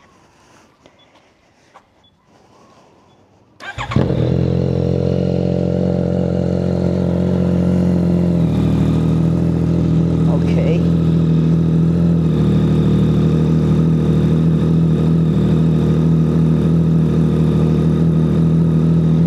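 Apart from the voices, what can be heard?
Yamaha MT-09 SP motorcycle with Orion Precilla exhaust idling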